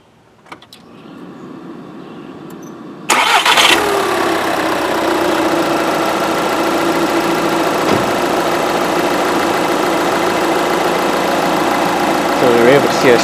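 A car engine cranks and catches with a sudden loud start, then settles into a steady idle during a battery load test of the starter and charging system, humming continuously under a voice.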